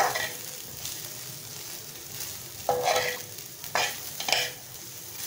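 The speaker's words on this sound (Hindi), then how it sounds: "अब हम इन तमाम चीज़ों को अच्छी तरह से मिक्स कर देंगे।" Cumin, tikka masala and salt are stirred together for a pizza pinwheel filling, making soft scraping and rustling with a few louder clinks of the utensil against the bowl, close by and with no talking.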